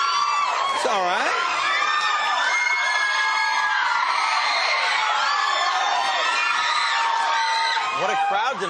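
A studio audience at a television talk show cheers and whoops nonstop for Leonardo DiCaprio, a loud, dense crowd roar with high whistling whoops rising over it.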